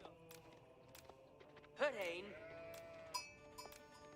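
A sheep bleats once, clear and wavering, in a video game, over a quiet background with faint clicks, followed by a shorter, fainter bleat a moment later.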